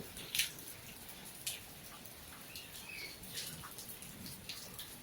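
Rain falls outdoors over a vegetable garden, a faint, steady hiss with scattered soft drops and occasional light taps.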